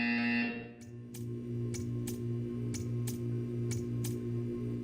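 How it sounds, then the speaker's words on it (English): A buzzer in the video game Portal 2 sounds as a string of short, evenly spaced pulses over a steady low electronic hum, loud and close, with no talk. "You will hear a buzzer. When you hear the buzzer, stare at the art."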